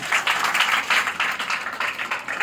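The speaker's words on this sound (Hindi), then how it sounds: "इस बेटी के लिए जरा तालियां बजाइए" An audience claps for a girl, a steady dense patter of many hands that stays loud and even for a couple of seconds with no voices over it.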